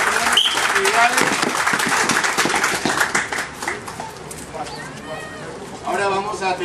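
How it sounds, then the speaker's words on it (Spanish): Crowd applause and clapping for a children's human pyramid exhibition, a dense steady patter filling the space with voices and cheers mixed in, easing slightly then swelling again near the end. "Brindémosles estos muchachitos un fuerte aplauso"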